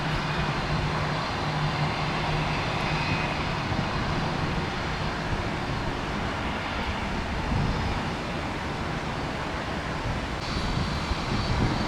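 An American Airlines A321 jet takes off, giving a broad, steady, loud engine roar that fills the whole stretch with little change, with no talking.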